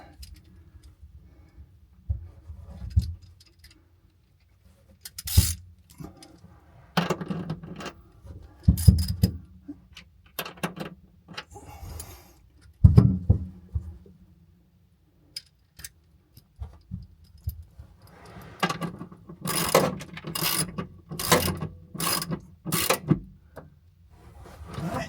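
Tightening a bolt on a ground connection during an RV lithium battery install: a string of sharp metallic ticks and clicks from a ratcheting wrench, in short bursts with pauses, close and fairly quiet, with no talking.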